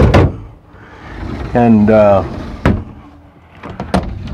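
Drawers in the rear slide-out of a 1999 Fleetwood Southwind Storm motorhome sliding open and shut, sharp close clunks at the start, middle and end, with someone talking briefly between them.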